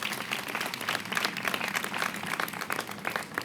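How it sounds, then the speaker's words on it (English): An audience at a New York City soccer press conference applauds NYCFC, with moderately loud, continuous clapping from many hands, rather distant and roomy, and no speech over it. "Let's give them a round of applause."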